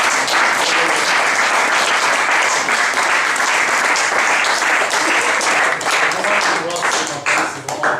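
A church congregation applauds to acclaim the Lord, with dense, sustained clapping from a large crowd and voices mixed in, tapering slightly at the end.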